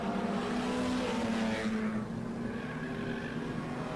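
Banger racing cars roar around the Swaffham oval track, a loud continuous engine drone with one car's tone rising and then fading as it passes.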